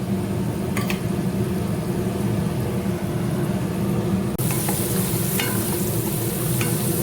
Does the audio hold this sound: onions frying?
yes